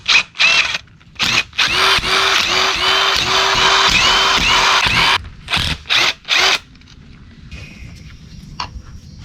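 A power drill backs out cover bolts on a diesel Kubota T1600 lawn tractor, its motor whining in several short bursts and one long steady run close by, with brief clattering handling noises at the end.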